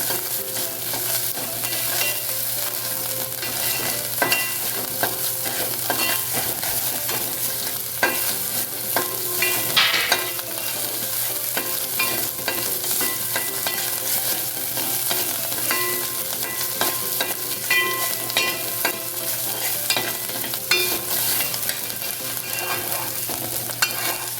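Ginger and green chilies sizzle steadily in hot oil for inji curry, with a constant frying crackle and occasional stirring scrapes of a spoon in the pan, close and fairly loud, with no talk.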